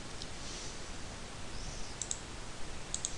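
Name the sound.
computer mouse right clicking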